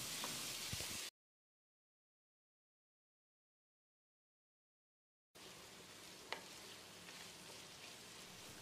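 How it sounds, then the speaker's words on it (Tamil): Vegetables sizzle and crackle steadily in a hot pan, broken by a few seconds of complete silence before the frying resumes with an occasional clink. "இதில் 1/2 கப் அளவு பொடியாக நறுக்கின பீன்ஸ், அதே அளவுக்கு பொடியாக நறுக்கின கேரட், குறைஞ்ச தீயிலேயே 1 நிமிஷம் இதை நல்லா வதக்கி விட்டுடலாம்"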